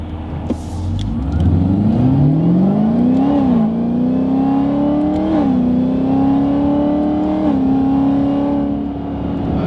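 A Chevrolet Camaro ZL1 accelerates quickly at night, its engine rising loudly through several gear shifts, each marked by a brief dip before it climbs again, heard from inside the car.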